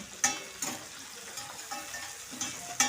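Small tomatoes fry in a pan while a spoon stirs them, several sharp scraping knocks at uneven intervals over a soft, steady sizzle, quiet and close, with no talking.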